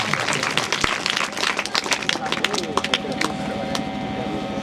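An audience at a school prize-giving ceremony claps for a winner, a scattered, lively patter of hands that fades a little toward the end, with a voice talking over the clapping.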